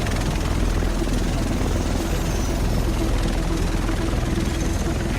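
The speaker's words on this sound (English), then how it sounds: "The rest of us should be in this chopper." Helicopter in The Division video game, a loud continuous rotor thump and engine drone filling the scene, steady throughout.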